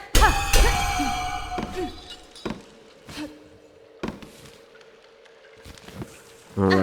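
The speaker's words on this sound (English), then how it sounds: "I guess the game is full of bells." Metallic bell chimes ring in the video game Hollow Knight: Silksong, a bright cluster of struck tones at the start, then scattered single dings and clangs over a sustained hum, ending with a louder burst.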